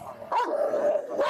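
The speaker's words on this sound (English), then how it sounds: "Are they mean dogs?" A dog lets out two short, sharp barks close by, each followed by a brief whining tail, with no talk in between.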